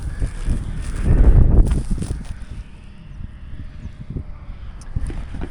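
Wind gusts buffet the microphone with low rumbling bursts in an open hay field, strongest early on, then settle into a steady outdoor rush.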